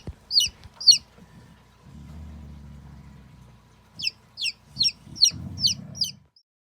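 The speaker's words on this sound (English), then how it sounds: "When I moved him into the brooder, which is just wood chips, a heat lamp, and a food and water source in a protected area" A newly hatched chick in a brooder of wood chips under a heat lamp gives sharp, high chirps, two early and then a rapid run of several, with low soft rustling between them.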